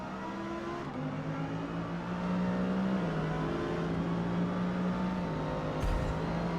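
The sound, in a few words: race cars in Forza Motorsport video game at Silverstone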